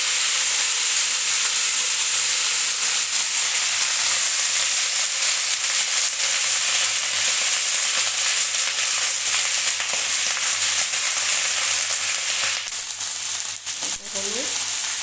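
Fish for a fish curry fries in a pan with a loud, constant bright sizzle and hiss, close up and steady, with a faint stir near the end.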